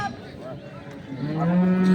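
A dairy cow at a cattle market in Dinajpur lets out a low, drawn-out moo close by, rising in strength toward the end amid faint background murmur.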